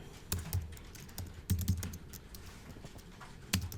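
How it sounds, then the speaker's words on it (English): Keys clack on a computer keyboard in short, quiet bursts of a few quick strokes separated by pauses, close and alone. "now we just start typing"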